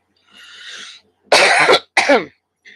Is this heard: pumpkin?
no